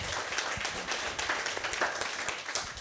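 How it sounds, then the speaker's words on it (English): An audience at a Black marketplace empowerment event claps in a brief, steady round, a fairly quiet crowd with dense hand claps throughout and no clear talk on top. "Can y'all clap it up?"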